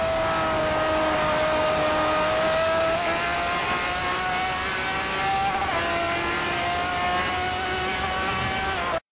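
Race car engine held at full throttle on the Nürburgring GP full circuit in Forza Motorsport 4, a loud sustained high whine that climbs steadily, dips briefly once and carries on alone without talk.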